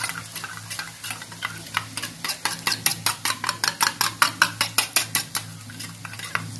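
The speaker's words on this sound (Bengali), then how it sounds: "এবার এই সসটাকে একটুখানি মিশিয়ে" Rhythmic stirring of mixed pizza sauces in a bowl, a spoon scraping and clicking in quick regular strokes that grow louder and faster midway, close up and with no talking.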